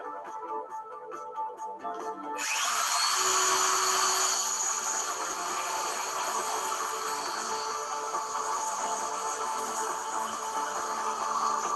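An electric drill, rated up to around 2000 watts, runs on a lower-capacity power inverter, starting with a sudden bright whine after brief quiet and then holding a steady, loud motor drone with no talking.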